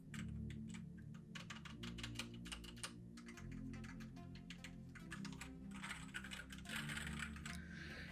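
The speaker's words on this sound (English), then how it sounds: "I'm gonna go ahead and just do some light taps on the keycaps." Light taps on the keycaps of an E-YOOSO Z-19 wired mechanical gaming keyboard, a rapid run of quiet clacks in uneven bursts, close up, no talk.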